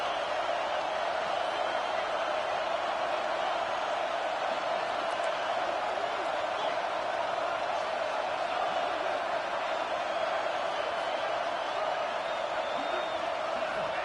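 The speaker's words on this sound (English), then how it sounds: "3rd down, and the crowd really getting into it." Stadium crowd in a college football video game on third down, a dense continuous roar that stays steady throughout without breaks.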